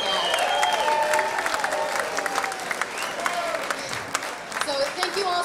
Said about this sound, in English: How about a huge round of applause for everybody that has come out this weekend?